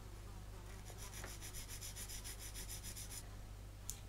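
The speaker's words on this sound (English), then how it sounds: "So just a gentle sanding around the edges, just to give the impression of a slightly thinner sheet of metal." Gentle sanding along the edges of plastic bomb fins on a Tamiya 1/32 Mosquito model produces a faint, rapid rasping of quick back-and-forth strokes for about three seconds, close but quiet, followed by a small tick.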